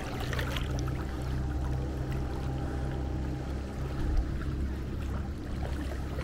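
Low, steady engine drone of a tour boat beside a beach on the Phi Phi Islands in Thailand, a continuous rumble with water wash throughout and no voices.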